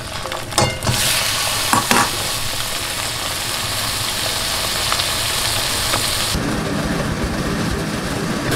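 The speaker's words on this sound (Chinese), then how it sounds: "我想要煎虾子，再加一点点油。" Shrimp fry in a little oil in a home kitchen pan, giving a loud, continuous sizzle with a few sharp knocks early on. The hiss thickens and grows fuller toward the end.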